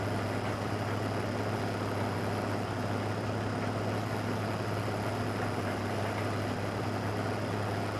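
A small tractor idles in Farming Simulator 2015 on a Norwegian farm, a steady low engine hum with constant mechanical drone and no change in pitch or loudness throughout.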